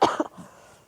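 One short, close cough with a throaty burst and a smaller follow-up, then quiet.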